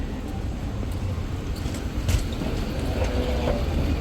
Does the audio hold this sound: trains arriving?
yes